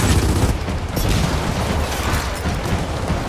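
Steady, dense gunfire from a weapon in Gears of War 4 fills the whole stretch at close range, with a low rumbling boom under it and no pauses.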